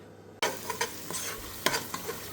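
Potatoes for bhungra bateka cook in a covered pot: after a quiet start a sizzle begins suddenly and continues steadily, with scattered clinks and scraping touches.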